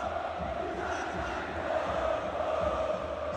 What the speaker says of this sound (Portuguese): olha que coisa mais linda o Morumbi, velho! Que a torcida do Palmeiras tá fazendo